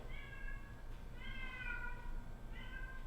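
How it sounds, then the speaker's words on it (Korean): A cat meows outdoors in three drawn-out, tonal calls with short pauses between them, heard faintly at a distance over low background hum. "지금 밖에서 고양이가 야옹야옹 거려요."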